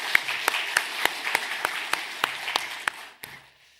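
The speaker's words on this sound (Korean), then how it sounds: "수고한 우리 성가대 한번 박수 한번 해서 격려 한번 하겠습니다." A church congregation claps for the choir, a sparse, uneven patter of individual claps that fades out after about three seconds.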